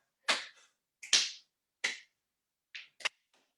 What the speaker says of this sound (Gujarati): તાળી પાડો